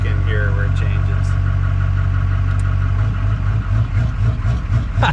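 An LB7 Duramax diesel truck engine running on a new tune, a steady loud idle with deep low rumble and faint vibration throughout, the pitch roughening slightly toward the end.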